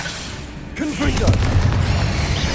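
A Confringo fire spell exploding in the Hogwarts Legacy video game, a single booming burst with rumbling crackle that swells after a brief lead-in and sustains to the end.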